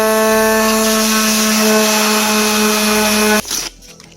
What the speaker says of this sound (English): So I'll get a palm sander and I'll go over this joint like so until it's pretty smooth.